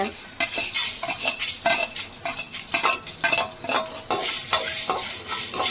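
Coriander seeds and black pepper dry-roasted in a pan for a pepper kuzhambu, rapid rhythmic metallic scraping and rattling of a spatula stirring the seeds, loud and close, with a faint sizzle and no speech.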